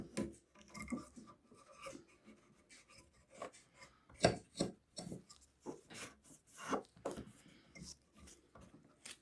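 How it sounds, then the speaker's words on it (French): A damp cotton swab wipes the fan of an xTool S1 laser fume extractor, giving faint, close, irregular rubbing and scratching strokes in quiet surroundings. "comme c'est un petit peu humide avec la coton-tige, hop, je viens essuyer"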